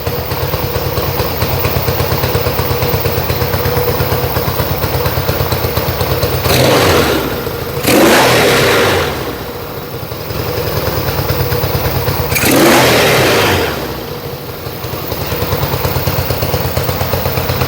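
A Yamaha XS1B motorcycle engine runs at a steady loud idle, then is blipped hard twice in quick succession and revved once more later, settling back to idle each time.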